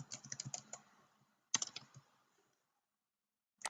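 Quick clicks from a computer keyboard come in two short bursts of typing as details are entered into an online form, close and crisp, then a pause before a final few keystrokes.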